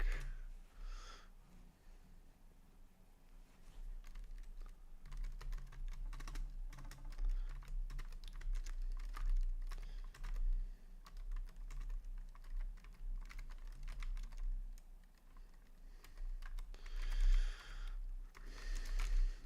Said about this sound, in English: I'm just dynamically typing in Leet Speak.